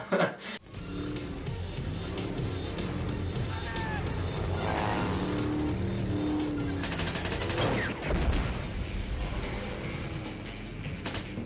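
Gunfire blazes during the hovercraft chase in Die Another Day, rapid bursts of shots over roaring engines, crashes and film score, with dense, loud action noise filling the whole stretch.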